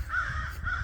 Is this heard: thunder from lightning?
no